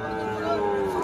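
A young heifer calf at a cattle market lets out a short, drawn moo, close and fairly loud over busy crowd murmur.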